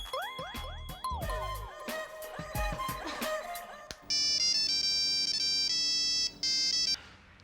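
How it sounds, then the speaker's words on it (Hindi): An electronic phone ringtone plays a bright melodic jingle, then a sustained high beeping ring pattern repeats, fairly close with no voices. "आदि, तू फोन क्यों नहीं उठा रहा है?"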